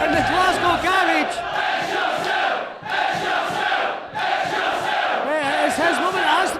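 A 700-strong wrestling crowd roars and chants continuously inside the Glasgow garage venue for an ICW heavyweight title match, loud and sustained with rhythmic swells of shouting voices.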